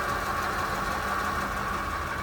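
A 1956 Oldsmobile Super 88 Holiday sedan's V8 with automatic transmission idles smoothly and steadily, a low even hum with no other sounds.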